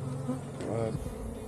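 Honeybees buzz close around a lifted hive frame, a steady droning hum with a brief louder pass, no talk.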